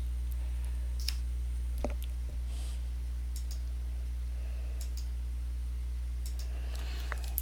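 A computer mouse clicks while editing in Microsoft Word: several sharp, sparse clicks, faint over a steady low electrical hum, with no speech.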